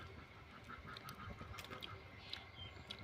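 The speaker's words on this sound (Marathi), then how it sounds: "बदकं बघ कशी करतात." Ducks quack in short, scattered calls over a quiet outdoor background, faint and somewhat distant, several calls across a few seconds.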